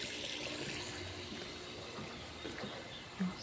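Water running from a tap at a home with solar power, a soft steady stream that flows quietly and evenly throughout, with a small knock near the end.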